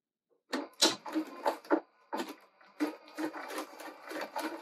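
Sewing machine stitching fabric against a quarter-inch cloth guide, running in short close bursts of rapid mechanical clatter separated by brief stops.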